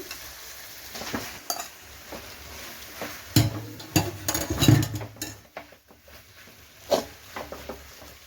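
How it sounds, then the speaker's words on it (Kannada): Potatoes are added to softened tomatoes in a pan for Bombay sagu, with a low steady sizzle, spoon scrapes and clinks against the pan, and a few louder knocks as they tumble in. "ನೋಡಿ ಆಲೂಗೆಡ್ಡೆನ ಸೇರಿಸ್ತಾ ಇದ್ದೀನಿ"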